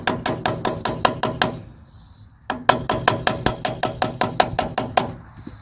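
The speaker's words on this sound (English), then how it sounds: "I'm going to work the punch till it's almost perpendicular to the cap," A steel punch is struck by a hammer to knock the bearing cap off a trailer hub, ringing in a rapid run of sharp metallic blows, a brief pause, then another even series of close, loud strikes.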